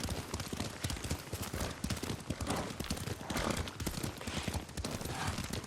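Hooves clip-clop in a quick, steady galloping rhythm as a horse is ridden in the samurai video game Ghost of Tsushima, loud and close, with busy rustling and clatter throughout.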